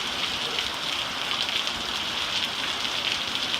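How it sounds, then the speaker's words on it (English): Heavy summer monsoon rain pours down outdoors in a dense, constant roar of drops, close and loud, with no talking. "Man, is it ever pouring."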